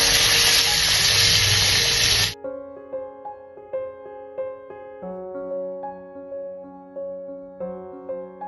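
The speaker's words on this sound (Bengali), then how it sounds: "তো এখানে বেলে মাছ রান্না করছি।" Bele fish frying in oil in an iron wok gives a loud, dense sizzle for about two seconds, then cuts off abruptly and a light plucked melody takes over.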